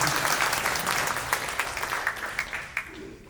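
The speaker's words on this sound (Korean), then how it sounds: "박수 한 번 더 부탁드립니다." Audience applause at a party rally for grassroots members, a sustained crowd clapping with sharper individual claps toward the end.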